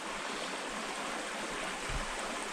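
Water flowing steadily through a deep rock gorge at Carnarvon Gorge, a continuous broadband rush with no voices, even and unbroken throughout.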